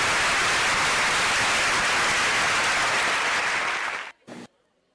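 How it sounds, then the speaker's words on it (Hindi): Loud, dense applause from an audience at a one-act drama competition prize distribution, greeting a school drama team; steady broadband clapping for about four seconds that cuts off abruptly, followed by a brief burst and near silence. "जोरदार तालियां।"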